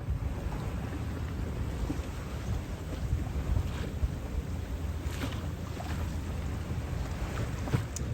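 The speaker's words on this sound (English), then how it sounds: "kind of beating pretty hard into the waves. They haven't even gotten that big yet, and it's really hobby horsing around." A small sailboat beats into waves in strong wind while crossing the Bay of Biscay, making a continuous loud rush of wind and water with dull thumps as the hull hobby-horses, and no voices.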